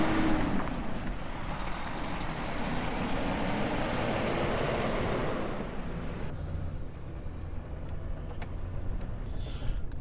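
A diesel grain truck pulls out on a cool harvest morning, its engine a steady rumble that fades after a few seconds, leaving quieter idling behind, with no talk.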